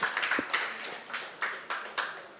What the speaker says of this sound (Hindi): एक बार जोरदार तालियां आशी के लिए